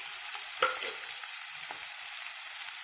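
Gooseberries tumbling into a hot pan for gooseberry rice, with a brief thump and a quick burst of sizzle over a steady, soft frying hiss and a faint later knock.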